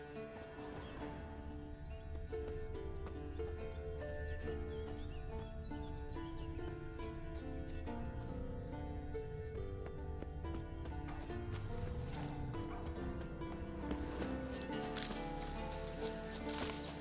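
Horse hooves clip-clop steadily in The Witcher 3 Remastered, a dense, continuous rhythm beneath a thick layer of music, with no one talking.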